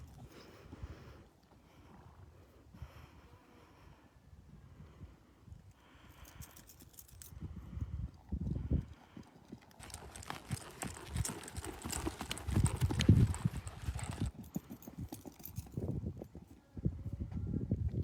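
A green horse walks on a loose rein, its hooves clip-clopping in a steady, close rhythm that grows louder and busier partway through, with no talking.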